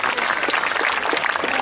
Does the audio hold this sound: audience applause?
yes